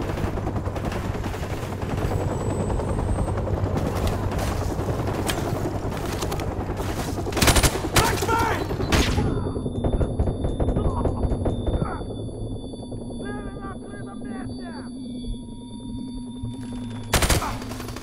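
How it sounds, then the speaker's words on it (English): Gunfire rattles in Call of Duty 4: Modern Warfare (2007), with dense bursts and sharp loud cracks over game ambience, some shots fading into quieter stretches with faint voices. "I just started shooting randomly"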